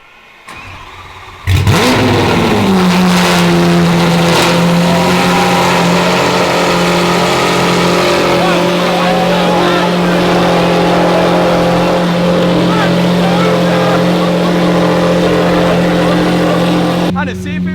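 A Lamborghini SVJ being rebuilt after a wreck starts up and settles into a loud, steady idle with a deep droning hum, then holds it for the rest of the clip.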